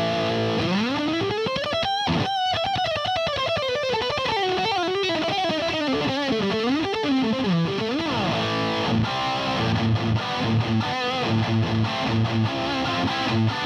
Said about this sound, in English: Treble all the way up. A bit of hiss going on.